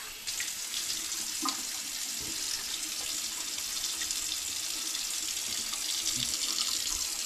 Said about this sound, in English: I probably shouldn't have left the water running